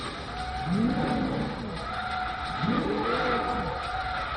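A sports car driven in the Forza Motorsport 3 racing game, its engine climbing and falling in two rising revs over a steady bed of road and tire noise.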